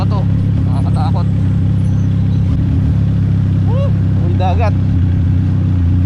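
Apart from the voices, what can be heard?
adventure motorcycle riding on rocky off-road trail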